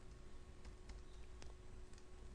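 Fingers type on a computer keyboard in a quiet room, a short run of faint, irregular key clicks over a low background hum.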